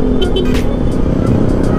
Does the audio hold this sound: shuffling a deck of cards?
no